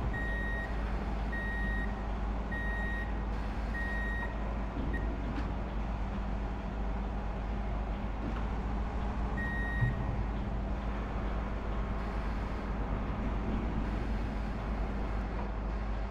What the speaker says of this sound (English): we're going to reverse onto the back of this one